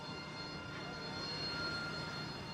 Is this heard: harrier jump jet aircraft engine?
yes